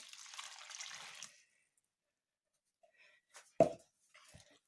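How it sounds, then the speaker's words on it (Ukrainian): A yeast mixture with water, salt and sugar is poured into a bowl for oat-flake bread: a soft pouring splash, then silence and a couple of quiet plops and drips. "виливаємо сюди цю масу дрожжеву з водичкою, солью, сахаром я виливаю сюди"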